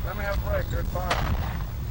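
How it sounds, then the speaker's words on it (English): Gunfire during a 1981 police standoff with an armed suspect, heard as a few sharp distant reports over a steady low rumble of background noise, with faint speech-like sounds mixed in. "They're shooting down there."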